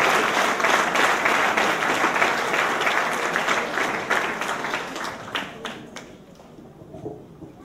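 A church congregation in Martinique applauds and cheers the Lord, a loud, sustained wash of clapping that thins out and fades near the end, with scattered individual claps remaining.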